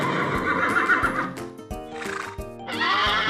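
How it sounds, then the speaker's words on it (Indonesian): A horse gives two loud whinnies with a quieter snort between them, and hooves clop lightly in the gaps. "Kuda bahasa Inggrisnya horse."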